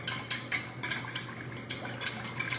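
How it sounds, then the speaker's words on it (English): A roast pork sauce with mustard being whisked in a pot, quick metallic scrapes and clinks of the whisk against the sides coming in a close, lively rhythm with no talking. "And I just whisk that in."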